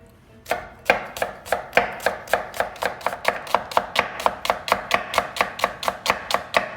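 A knife cuts through a leek on a board in a quick, even run of about two dozen sharp close chops, slightly accelerating, with no voices.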